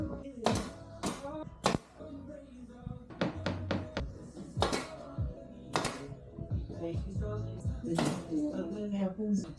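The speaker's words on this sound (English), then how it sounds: "I'll just pin them in place with this" Cupboard boards being pinned in place inside a van conversion, heard as an irregular series of sharp, close taps and dull thunks with short pauses between them.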